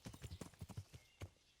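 Horse galloping in a video game, a quick run of hollow hoof clip-clops in uneven rhythm, close and fairly loud, trailing off after a last separate hoofbeat, with no speech.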